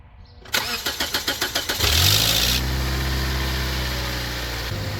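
Car engine with a newly fitted serpentine belt cranks in a quick rapid chugging rhythm, catches and settles into a steady, close idle with a faint high whine fading after a moment.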